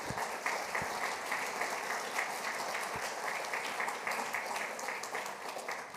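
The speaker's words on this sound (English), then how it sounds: "let's please give him a round of applause" Colleagues at an ENMAX annual general meeting give sustained, even applause, a steady wash of many hands clapping with a few sharper claps standing out.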